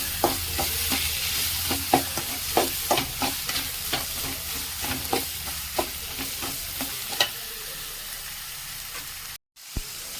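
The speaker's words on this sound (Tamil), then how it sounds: "இஞ்சி பூண்டு பேஸ்ட் போட்டுருவோம். ஓகேங்களா, அதை போட்டு கொஞ்சம் வதக்கும்." Ginger garlic paste sautéing in a pan for squid thokku, a steady sizzle with regular scraping stir strokes close up, ending with a brief cutoff and one sharp tick.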